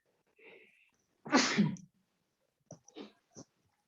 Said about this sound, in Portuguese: Perdão, espirrei, ó.